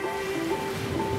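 Baltic Sea waves washing onto a beach at a seaside resort town, heard as a steady, continuous rush of surf, fairly loud and close, with no voices.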